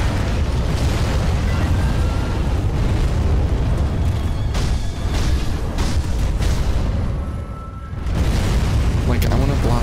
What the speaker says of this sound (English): I want to block those giant explosions.